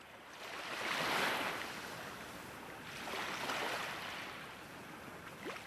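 Ocean waves at a quiet seaside, two soft surf swells rising and fading with a steady hiss between them, fairly distant and gentle, no voices.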